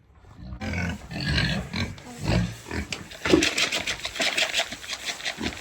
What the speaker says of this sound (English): Let's go where the pigs go.